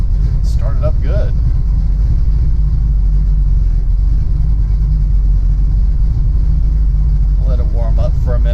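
A big-block V8 in a 1933 Ford Tudor idles just after start-up with a steady, deep, mellow rumble that runs throughout, while someone talks briefly at the start and end.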